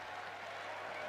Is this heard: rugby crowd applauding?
yes